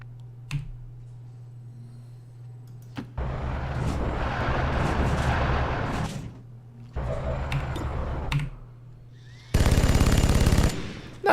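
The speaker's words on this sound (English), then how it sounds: "Let's start by shooting the Stun Lancer first." Rapid bursts of gunfire in an XCOM-style tactical game as soldiers shoot at a Stun Lancer enemy, with three separate dense volleys. The last and loudest is a harsh, crackling burst, heard with no talk over it.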